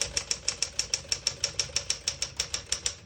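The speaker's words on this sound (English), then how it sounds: "We're going to keep it on single and finish typing." A 1964 Smith-Corona Sterling portable typewriter struck in a steady, even run of about sixteen sharp keystrokes, close and clear with no talking.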